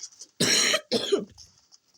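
A person coughs in two harsh bursts close to the mic, the first longer and louder, the second trailing off, with quiet room noise around them.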